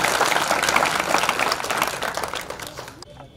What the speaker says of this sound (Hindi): आपके सामने करतल ध्वनि एक जोरदार ताली के साथ